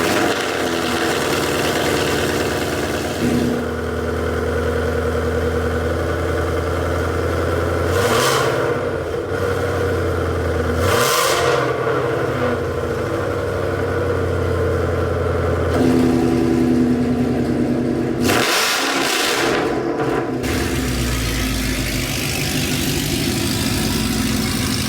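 Ford Mustang GT V8 with a Corsa active exhaust, loud and deep, idling close by with a continuous rumble, broken by several sharp rev blips that rise and fall back to idle.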